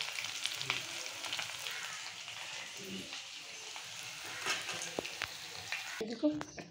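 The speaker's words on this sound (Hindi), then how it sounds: "ये तेल से मैंने अंडा और बटाटा फ्राई करी थी" Eggs and potato pieces fry in oil with a faint, continuous crackling sizzle, dotted with occasional light clinks of a utensil being moved through the pan.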